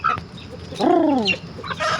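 Chickens cluck nearby, with one long rising-and-falling call standing out among shorter clucks and scattered background noise.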